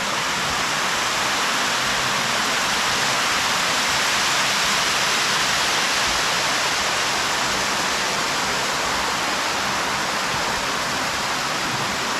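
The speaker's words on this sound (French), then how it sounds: "La fameuse cascade." A waterfall at Lac de Bethmale in autumn roars steadily and loudly, a dense unbroken rush of falling water that never lets up.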